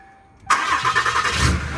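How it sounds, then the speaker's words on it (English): A tow truck's engine cranks and catches abruptly, then settles into a rough, rumbling idle close by for the remaining second or so. "we start the truck up, turn the PTO."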